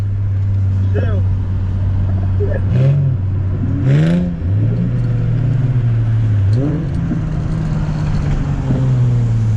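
Infiniti G35 with full bolt-on modifications revving and pulling through gears on a late-night cruise, engine drone rising and falling steadily up close with several throttle blips, while people talk over it inside the car.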